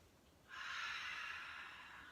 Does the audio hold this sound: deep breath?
yes